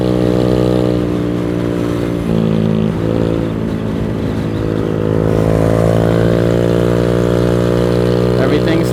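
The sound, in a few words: motorcycle (Venom X18) accelerating to top speed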